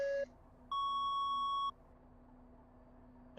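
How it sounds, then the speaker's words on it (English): A match buzzer at a test match sounds as a short electronic beep, a brief pure tone followed by a longer sustained one, over low background hum. "There's the final buzzer."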